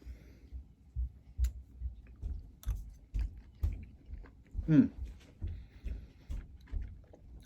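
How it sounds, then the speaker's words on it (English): Someone chews crunchy fried plantains close to the mic, with soft, irregular crunching bites at home and a brief squeaky noise midway. "So the plantains have a really nice crunch, which is great."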